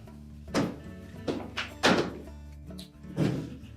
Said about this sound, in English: open the door completely